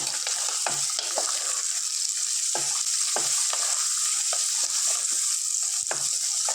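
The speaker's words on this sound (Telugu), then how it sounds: "వేసుకొని చక్కగా ఫ్రై చేసుకుందాం" Ivy gourd curry frying in a pan for a Telugu dish, a steady bright sizzle with occasional scraping stirs, close and continuous throughout.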